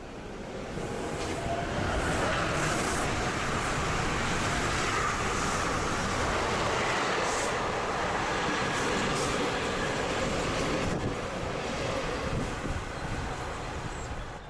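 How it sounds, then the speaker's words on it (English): A train rolls steadily past Silverliner railcars on an Amtrak line, a sustained broad rumble and rush that holds at an even level throughout with no voices. "We can hear another train passing the Silverliners,"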